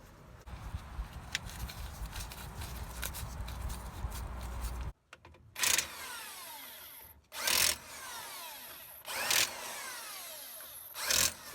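A power tool drives screws into the rear differential cover of a 2008 Mazda B2300 pickup. A steady whirring stretch is followed by several short, loud bursts in an irregular rhythm, close by, with no voices.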